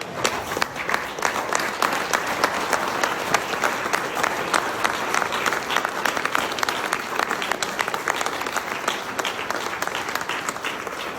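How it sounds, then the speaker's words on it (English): A standing crowd at a memorial gives sustained, even applause, many hands clapping together in a continuous, fairly loud wash from start to finish. "let's all give Amber a hearty clap"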